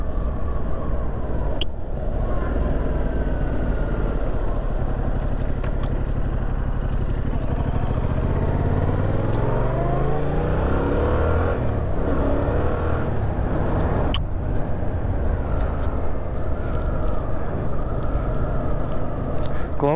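Yamaha MT-07 motorcycle being ridden on the road, its engine running continuously with rising and falling revs as it accelerates and shifts, under intermittent talking.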